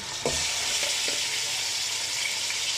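Chicken pieces frying in oil in a pan already used to brown onions, with a steady loud sizzle throughout and a few short stirring scrapes.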